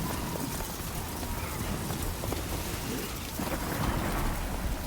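Heavy rain pours steadily in a Death Stranding 2 thunderstorm, with dense, loud hiss throughout and a low thunder rumble building toward the end.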